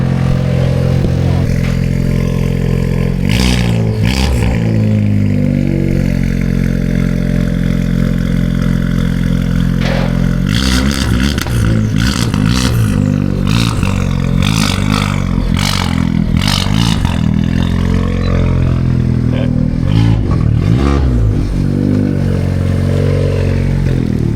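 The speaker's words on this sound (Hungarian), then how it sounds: "Nem fogod elhinni, de leállok a trailerről az autóval." A car rolls off a trailer on a cold day, its engine running steadily at idle throughout with bursts of revving and clattering mechanical noise, loud and close, no talking.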